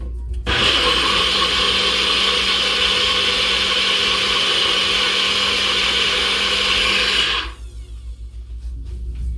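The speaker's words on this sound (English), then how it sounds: "So we'll go over to my blender, blend this up here." A kitchen blender whirs loudly as it blends a drink, a steady close motor roar lasting about seven seconds before cutting off abruptly.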